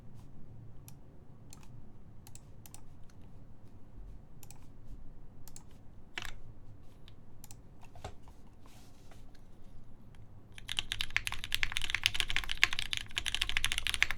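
Keys clack in sparse, scattered presses on a custom mechanical keyboard with a top relief mount, then switch to a dense, fast burst of typing near the end, close up with no talk.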